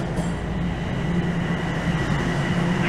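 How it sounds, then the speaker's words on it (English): A Toronto TTC subway train rolling into a station rumbles steadily, a broad low roar of wheels and carriages with a faint rising squeal near the end, loud and close. "The train is rolling in"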